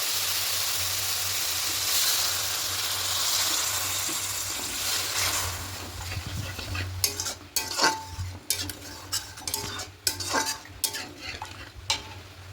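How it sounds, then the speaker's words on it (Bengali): Water poured into a pan of spice masala that has been fried until dry and oily, for an egg curry; a steady loud sizzle and hiss give way to choppy stirring scrapes and bubbling bursts, with no talk. "খুব ভালো করে কষিয়ে নিয়েছি এবার এখানে জলটা অ্যাড করবো"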